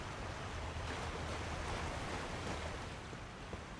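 Waterfall in Elden Ring, a steady broad rush of falling water that stays constant and moderately faint with no other sounds.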